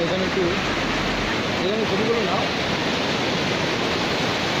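Stream of water rushing freely down from the top of a mountain at Rocky Island in West Bengal, a loud continuous broadband roar, close and unbroken, with a voice faintly speaking beneath it.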